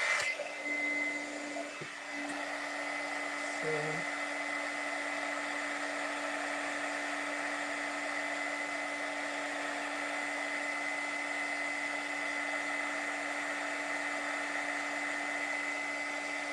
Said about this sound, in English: Now we're going to emboss it. So turn on the gun.